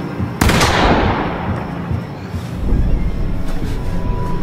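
A single loud gunshot in the video game The Quarry cracks out sharply and leaves a long, decaying reverberant tail, with game ambience rumbling on underneath.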